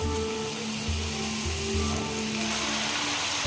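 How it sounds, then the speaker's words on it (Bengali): Eggplant slices fry in hot oil for a Bengali ilish dish, making a steady close sizzle with faint pulsing bubbling throughout. "বেগুন ইলিশ করার জন্য প্রথমে আমি বেগুনটাকে একটু ভেজে নেব"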